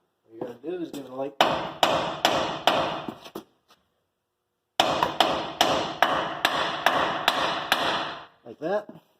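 A hammer strikes a truck's steering linkage in two rapid runs of sharp, ringing taps, close and loud, with a brief pause between them and a voice at each end.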